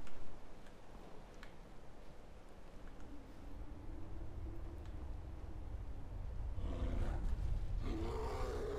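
Low, rumbling growl of a bear in Skyrim, a steady roar-like rumble swelling louder toward the end over faint game ambience, with no talking.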